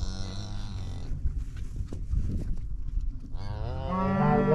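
A cow on a farm lets out a loud, close moo after being struck by a tranquilizer dart from a Cap-Chur dart gun. The low call swells near the end and stands alone with no talk.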